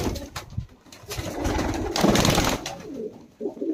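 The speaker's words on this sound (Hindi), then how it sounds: "ये देखो भाई कबूतर" Punjabi Malwai pigeons coo softly nearby, low throaty warbling calls repeating over a rustling background with no talking.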